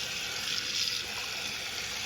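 Water runs steadily into a container to soak a hat in hot water with detergent and sea salt, a continuous close hiss of filling with no talk.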